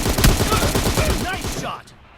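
Rapid gunfire from the mobile game PUBG in a team deathmatch, a dense burst of shots running for nearly two seconds and then cutting off sharply, with game announcer voice lines over it.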